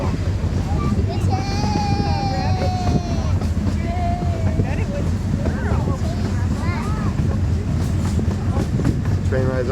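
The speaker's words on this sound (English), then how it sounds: "Train ride's almost over." A Billy Jones Wildcat Railroad miniature train at Vasona rolls along with a steady close rumble and clatter, while voices chatter over the running noise.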